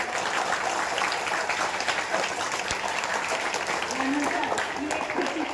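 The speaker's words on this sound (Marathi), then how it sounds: "मराठी जोरात टाळ्या होऊन जाऊ." Loud, sustained applause from a crowd at a Marathi commemoration event for Lokmanya Tilak's death anniversary and Annabhau Sathe's birth anniversary, dense clapping filling the whole stretch with a few faint voices mixed in.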